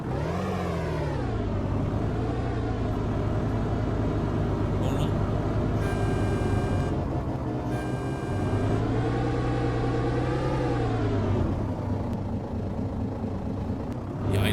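Classic truck mod in Euro Truck Simulator 2 with the engine revving: a loud, steady diesel drone close by, its pitch rising and falling as the revs change, with no talking.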